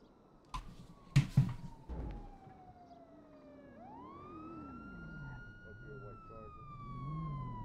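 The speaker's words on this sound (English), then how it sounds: "I think PD pulling up to you. I hear sirens." A police car siren wails steadily, rising and falling under background noise, with a few sharp thumps and bangs near the start.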